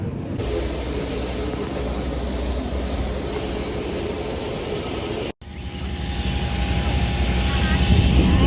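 Broad, steady roar of an airplane engine at an airport, loud and continuous, with a brief cut midway before the rumble resumes and swells slightly; a voice talks faintly underneath.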